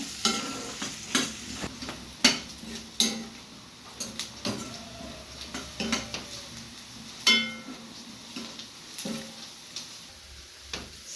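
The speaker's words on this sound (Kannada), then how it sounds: "ಈಗ ಈರುಳ್ಳಿ ಫ್ರೈ ಆಗಿದೆ, ಇಷ್ಟು ಸಾಕು." Onion and ginger fry in oil in a pan while a utensil stirs them, sending a continuous sizzle punctuated by frequent scraping clicks and knocks against the metal.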